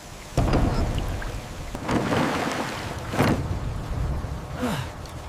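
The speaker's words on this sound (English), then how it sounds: "It's raining indoors now." Steady rain patters throughout, including rain leaking indoors through a roof, while several heavy rumbles of thunder break in at intervals, loud and close.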